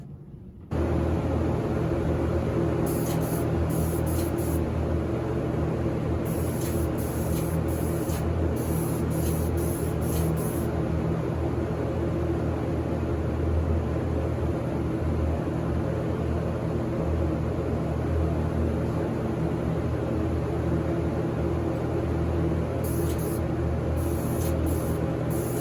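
Lacquer being sprayed onto a ukulele in a spray booth, a steady loud hiss of the spray gun beginning abruptly at the start and continuing unbroken, with soft background hum and no talking.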